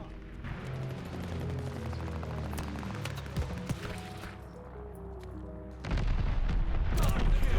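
Bombing explosions in the Call of Duty Vanguard video game: repeated muffled booms and scattered gunfire crackle at low level, with a heavier rumbling burst near the end.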